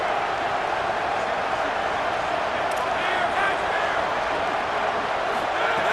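A stadium crowd roars in the EA Sports College Football 27 video game, a steady, loud wash of noise during a Texas Tech third down.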